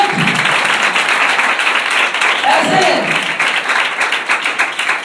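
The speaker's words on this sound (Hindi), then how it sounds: "जोरदार ताली खुदा के जलाल के लिए" A church congregation breaks into loud, sustained applause and clapping that fills the room, steady and dense, with a voice briefly rising over it partway through.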